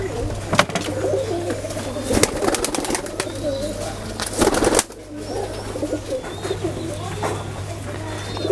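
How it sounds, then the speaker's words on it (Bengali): Running pigeons coo in a loft, a soft continuous low cooing from several birds close by, mixed with rustling, knocks and a steady hum, with faint scattered chirps. "এখানে ম্যাক্সিমাম সব রানিং কবুতর আছে"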